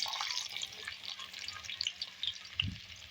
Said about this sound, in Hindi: ऑयल हमारा गर्म हो चुका है, अभी हम प्याज शामिल करेंगे इसमें